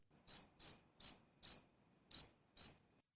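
Crickets chirp in six crisp, evenly spaced bursts with a brief pause before the last two, clean and isolated against total silence.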